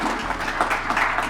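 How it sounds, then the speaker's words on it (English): Audience at the Arizona Manufacturing Summit, a conference, breaks into a brief round of applause, a dense wash of clapping lasting just over a second. "So let's give them a round of applause."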